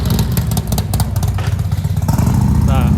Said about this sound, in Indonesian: Nah knalpotnya kedengeran ya